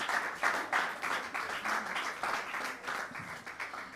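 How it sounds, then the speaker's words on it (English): Applause rises for participants at a school debate competition, a moderate crowd clapping in uneven surging waves that pulse louder and softer throughout. "So please, a round of applause for all participants."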